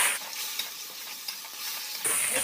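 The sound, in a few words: water added to frying spice paste, sizzling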